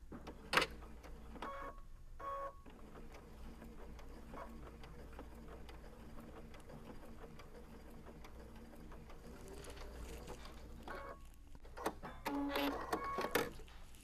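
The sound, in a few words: sewing machine top stitching a tablet case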